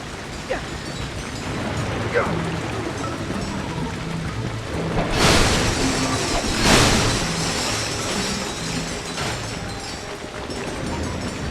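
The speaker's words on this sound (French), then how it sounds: "Cette pluie va ruiner mon costume." Steady rain hisses throughout, broken by two louder noisy bursts midway, with soft musical tones running underneath, in the video game Ratchet & Clank: A Crack in Time on planet Quantos.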